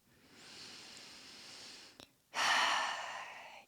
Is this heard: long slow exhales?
yes